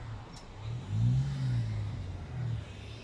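Cars driving out past a base gate, a medium engine swelling as a vehicle accelerates by, then a second, softer pass close by.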